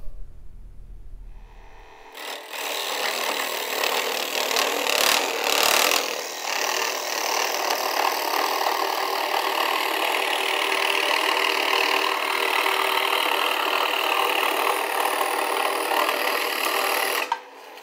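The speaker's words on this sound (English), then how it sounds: "The next step is to cut out the shape of your sign on the scroll saw." A scroll saw cuts the outline of a wooden sign with a steady buzzing whine that starts after about two seconds of near quiet. The motor note stays loud and even, with brief dips as the blade works through the wood.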